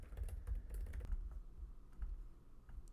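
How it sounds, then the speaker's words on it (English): Quiet typing on a computer keyboard, a quick run of soft key clicks followed by a few scattered taps, over a low steady background hum. "I'm going to type in raising wildflowers."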